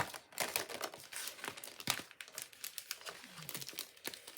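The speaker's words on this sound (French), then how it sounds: "je déchire toujours les enveloppes, les enveloppes, les sachets" A packaging sachet is torn open by hand, producing a quick series of sharp, crinkly rips and rustles, close and fairly quiet, with little else around.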